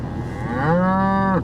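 A cow in a barn lets out one clear, drawn-out moo lasting about a second, close and loud, with no talk over it.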